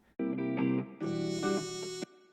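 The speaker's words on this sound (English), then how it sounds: "with reverb, that pause is definitely lessened, and if we turn up the wet here, and we can turn up the decay time a little bit" Drill beat's harmonic melodic synth with heavy reverb, wet mix and decay time turned up, playing two loud sustained phrases that wash together with no gap, the tail ringing briefly before cutting off.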